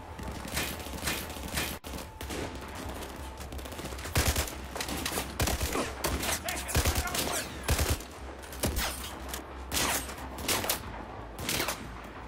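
Rapid bursts of gunfire in the video game Battlefield 4 crackle continuously, with repeated sharp shots and volleys layered over a dense, noisy background.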